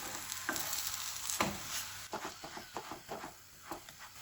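Mooli paratha frying on a hot tawa while a spoon presses it down, a soft steady sizzle broken by repeated crackling bursts as the dough is pushed against the pan.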